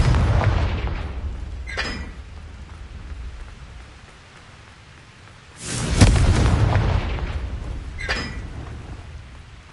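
Confringo blasting spell explosions in the Hogwarts video game: two bursts roughly four seconds apart, the second louder, each a sharp crack followed by a rumbling boom that fades slowly over a steady low background.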